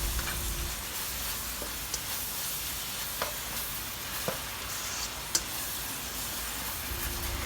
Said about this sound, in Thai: จากนั้นใส่มะพร้าวขูดลงไปค่ะ ก็ทำการนะคะคลุกเคล้า ผัดไปสักแป๊บหนึ่งค่ะ